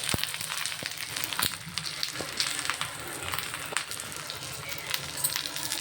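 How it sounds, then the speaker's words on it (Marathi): Batter-coated colocasia leaves fry in plenty of oil in a pan, giving a steady close sizzle and crackle with scattered sharp pops throughout. "दोन चार पानं तळले जातात"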